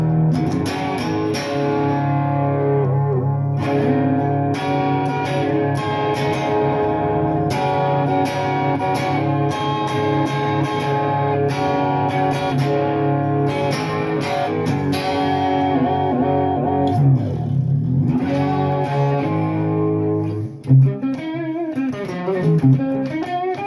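A walnut Holy Grail V electric guitar with a Floyd Rose tremolo rings out on its neck mini humbucker, playing loud, sustained chords and lines continuously without any talking.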